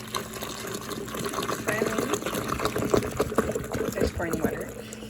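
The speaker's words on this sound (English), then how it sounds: "There's pouring water." Hot water pours in a splashing, gurgling stream into a container in a home kitchen, fairly close and continuous for several seconds, with a person's voice speaking over it.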